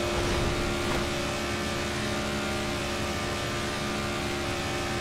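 Race car engines in the NASCAR '14 video game at Daytona's Coke Zero 400, the cars running poorly, give a steady, droning roar with no breaks and no talk.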